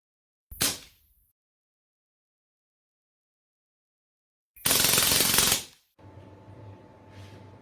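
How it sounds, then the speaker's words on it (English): A Hatsan Blitz .22 airgun fires first a single quick shot, then a fast full-auto burst of about a second. Each is a sharp, close crack with near silence around it, and a faint hum follows. "So looking at the gun's sound, when compared to the smaller guns with unshrouded barrels, this is not loud at all."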